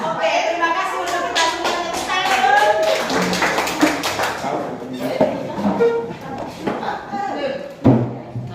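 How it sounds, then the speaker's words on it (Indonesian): A group claps hands in short bursts during a classroom hand-movement exercise, sharp taps and claps scattered under ongoing talk and singing voices. "Buka tutup, bertepuk tangan."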